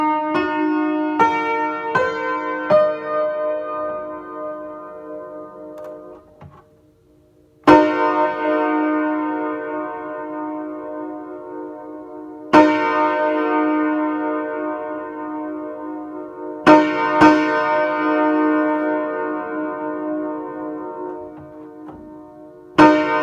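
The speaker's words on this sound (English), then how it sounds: "let's bang out some chord combinations. We'll start with the generic K5" A five-note Nathan AirChime K5 train horn chord played on piano, struck in a quick rolled run of notes and then as full chords that ring out and slowly decay, several times over, with no talk.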